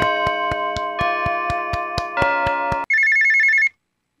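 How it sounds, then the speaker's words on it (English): Phone ringing in the horror game Dayshift at Freddy's 3: a run of rapid repeated bell-like ring pulses with sustained tonal overtones, then a brief gap and a higher electronic warbling tone before it cuts to silence. "Ooh, I'm getting a phone call."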